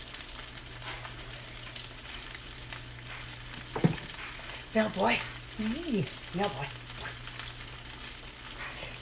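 Fish frying in a pan gives a steady, soft sizzling hiss throughout, while someone speaks a few short words over it midway.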